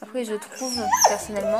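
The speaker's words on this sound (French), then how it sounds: "Excusez-moi pour les bruits mais c'est mon chien qui pleure." A pet dog whimpers and whines in the background of a room while a person talks over it, the high, thin cries rising briefly beneath the steady speech.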